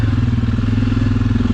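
A Suzuki KingQuad ATV engine drones loud and close with a steady pulsing throb while riding in the rain, accompanied by faint clatter.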